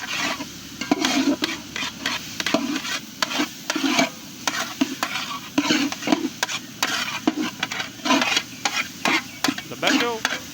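Crushed radish and chopped green chillies fry steadily in a pan for a paratha filling, a continuous close sizzle broken by repeated scraping stirs in an irregular rhythm, with no talking.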